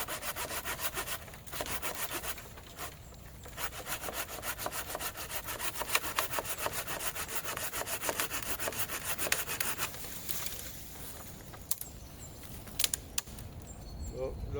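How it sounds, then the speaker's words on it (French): A small folding saw cuts through a wood branch with steady, rhythmic rasping strokes that carry on almost without a break, close up and moderately loud, and a voice is heard faintly now and then. "une toute petite scie pliante"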